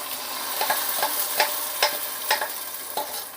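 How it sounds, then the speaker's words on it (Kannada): Tomato and onion masala paste frying in a pan for a soy chunks curry, with a steady sizzle and repeated scraping stirs at a near, moderate level, no voices. "ಈಗ ಟೊಮೆಟೊ ಮತ್ತು ಈರುಳ್ಳಿ ಫ್ರೈ ಆಗ್ತಾ ಬಂತು"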